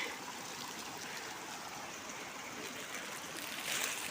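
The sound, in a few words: water flowing in a drain beside the house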